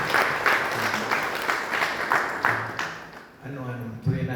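A church congregation at an all-night prayer service claps and applauds in a steady rhythmic burst, then the clapping fades and a voice speaks briefly near the end.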